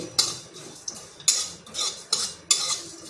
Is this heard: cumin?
yes